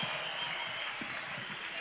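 Concert audience applauding at a rock show in Artsaia, a dense, steady wash of clapping heard from within the crowd, moderately quiet and continuous through the moment.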